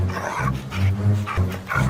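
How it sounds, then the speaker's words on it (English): Several dogs chasing a fox in an animated children's story, heard as a close, steady run of panting, growly barking and gruff snarls with no talking over it. "A group of dogs spotted him and started chasing him."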